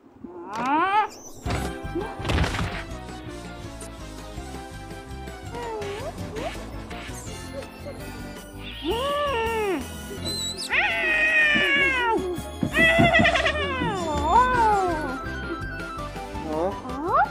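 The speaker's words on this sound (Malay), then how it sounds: "Kucing lagi. Jangan dekat." Several loud, drawn-out cat meows with rising and falling pitch, close by, mixed with cartoonish music and a few sharp knocks.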